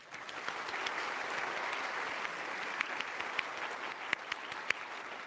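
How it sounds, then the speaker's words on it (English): An audience applauds steadily at a NASA briefing on OSIRIS-REx sample findings, a fairly soft, even roar of many hands with a few sharper individual claps standing out. "So I want to give a round of applause to Johnson here."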